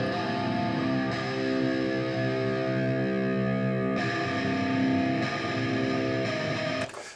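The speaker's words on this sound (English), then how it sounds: "the first guitar track is slightly muddier than the second one" A slightly muddy distorted electric guitar track plays through an analog mixing setup, a steady sustained chordal part that runs loud and continuous with no voices, changing near the midpoint and ending abruptly.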